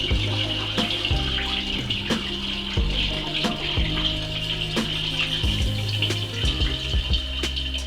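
Water is poured steadily into a container for homemade sparkling wine, a continuous close splashing fill with small knocks and gurgles throughout.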